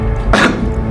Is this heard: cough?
yes